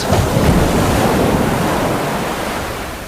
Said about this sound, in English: the Nan Shan went up over an enormous wave and ran deep down into the sea